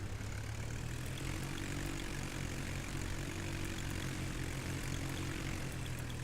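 A propeller aircraft engine in a flight simulator game drones at a steady, low idle, constant and moderately loud with no voices over it.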